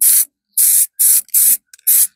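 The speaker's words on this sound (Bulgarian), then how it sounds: "Има най-различни спрейове, но аз използвам този" Aerosol spray paint hisses onto a leather steering wheel in five sharp bursts, each about a quarter second long, loud and close, separated by brief silences.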